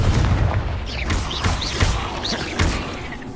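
Confringo blasting spells explode in the Hogwarts Legacy video game, a rumbling series of deep booms and crashes layered with crackling debris and faint whooshing spell effects.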